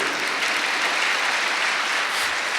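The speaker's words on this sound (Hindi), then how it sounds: "अब आपको ताली बजानी चाहिए" Steady, dense applause from a large spiritual gathering audience, loud and continuous throughout with no pauses and no talk over it.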